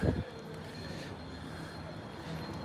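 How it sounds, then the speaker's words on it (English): A London Underground tube train rumbles steadily, a low continuous rolling roar with a faint whine of wheels, heard from a fair distance at modest level with no talk over it. "There's the subway, the tube."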